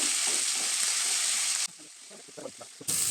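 Chopped tomatoes sizzle and fry in hot oil for a mushroom masala, with a steady loud hiss that drops away briefly while they are stirred, giving soft scraping sounds, then the sizzle returns.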